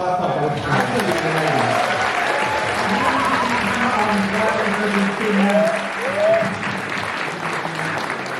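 Applause and cheering from the crowd at a beetleweight robot combat championship grand final in Bristol, a steady roar of clapping with voices talking and calling out over it throughout.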